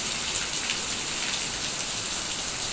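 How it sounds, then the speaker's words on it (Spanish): Steady rain pours down on a hot August afternoon during a summer heat spell, a dense even hiss with no breaks and no voices. "Y la lluvia hermosísima"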